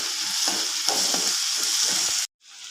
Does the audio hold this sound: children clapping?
no